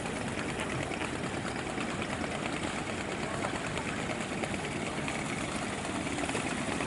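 A small disappearing-propeller boat engine chugs steadily with a rapid, even mechanical rattle, close by and unbroken throughout, with no talking.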